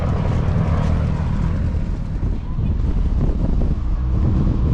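Helicopter from an RNLI rescue demonstration at the Northern Ireland International Airshow in Portrush, a broad continuous rotor roar mixed with heavy wind buffeting on the microphone, loud and unbroken throughout.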